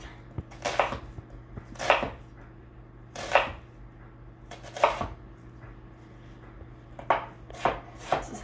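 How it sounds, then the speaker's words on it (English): A knife chops through an onion on a cutting board in steady, separate thuds with short gaps between them, close and clear. A faint low hum runs underneath and no one speaks. "I chop onions so that there's good stability and keep it nice and flat and still get nice small chop out of it."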